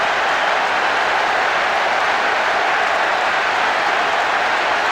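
A large stadium crowd in the PES 6 football video game, unhappy after a goal, produces a loud, dense, continuous roar and murmur with no talk over it.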